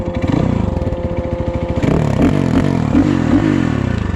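A motorcycle pulls away in a race between a Geon GNS 300, a Suzuki Bandit 600 and a Loncin 300, its engine loud and close, revving up with a rising, rasping roar as it shifts.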